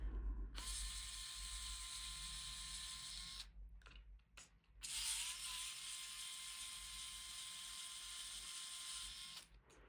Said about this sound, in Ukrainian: Давайте розбирати стяжні гвинти.